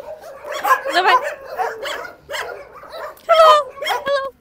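Several shelter dogs kept in cages bark and yip in quick overlapping bursts close by, with some high-pitched whining between the barks.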